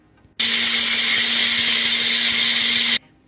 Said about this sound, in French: mixer les graines de fenouil